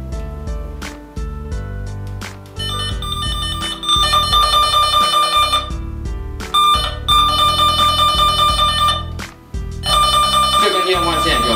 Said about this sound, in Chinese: 这根电话线有明显的巡线的声音，而且指示灯显示紫色。